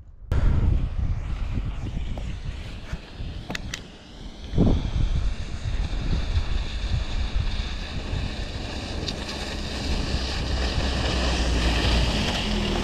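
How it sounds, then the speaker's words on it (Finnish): Strong gusts of wind buffet a GoPro microphone on a walk in a Swedish national park, loud and continuous rumbling throughout with no talk. "ei ole kauhean kylmä, mutta tuulee jonkun verran."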